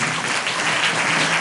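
A church congregation claps loudly and continuously, a dense, steady wash of applause with no breaks and no voices on top.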